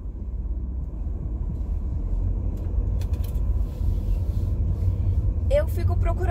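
A new car drives along with a continuous low engine and road rumble inside the cabin, while a person talks over it near the end.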